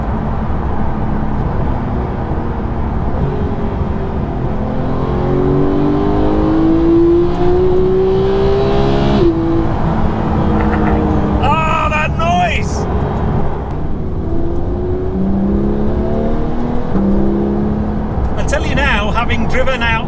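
A sports car, either a McLaren 600LT or a Porsche 991.2 GT3, drives along a hill road with a continuous engine drone that rises and falls through revs and gear changes, while someone talks over it throughout.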